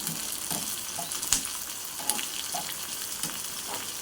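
Onions fry for a rock fish curry, a low steady sizzle with a few soft clinks and stirring knocks from the pan, fairly quiet and close, with no talking.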